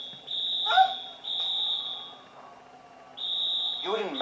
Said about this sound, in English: Until the fire alarm